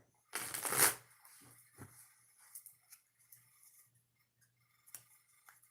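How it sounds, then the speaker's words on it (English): Tarot cards are shuffled by hand: a quick riffling burst of crisp flutter up front, then softer scattered slides and taps of cards being cut and handled, close and quiet, with no speech. "I'm going to shuffle them cards"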